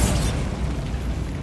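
Bombarda explosion spell in Hogwarts Legacy, a loud, dense rumbling blast that fills the whole short moment with deep booming noise.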